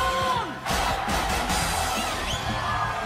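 Loud cheering and yelling from a crowd in a Super Sentai Gozyuger trailer, with whoops and shouts layered over a busy soundtrack, continuous and close.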